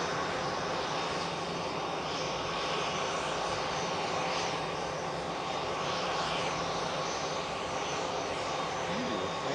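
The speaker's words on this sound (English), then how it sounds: "But nice little aircraft though. Bombardier Global 5000." A Bombardier Global 5000 business jet at Manchester Airport produces a steady, distant engine roar with broad hiss that holds evenly throughout, faint against the airport background.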